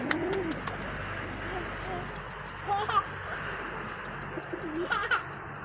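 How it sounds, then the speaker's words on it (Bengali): Pigeon sounds from a Sirazi pigeon chick at a pigeon farm, with soft coos and brief calls near the camera over steady background noise, as a person talks throughout. "দেখছেন গাইস এটা আমার সিরাজি কবুতর বাচ্চা"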